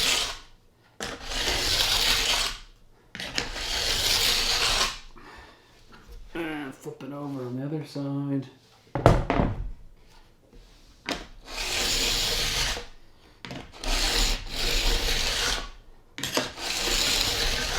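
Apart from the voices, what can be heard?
diamond file rubbing along an edge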